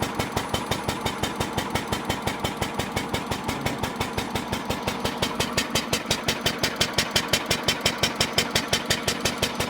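An 1886 Benz Patent Motorwagen's single-cylinder engine runs steadily with a rapid, even chuffing beat, close and loud, with no voices over it.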